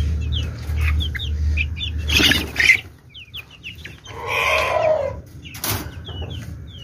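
Chickens and small chicks cluck and cheep on a farm, with repeated high peeping calls and a few louder clucks and squawks nearby, no talking.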